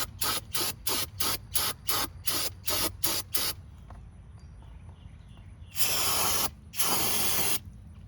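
Cleaner sprayed onto a brake caliper from a 2002 Pontiac Grand Am: nine short rhythmic hissing bursts in quick succession, a pause, then two longer sustained sprays, loud and close.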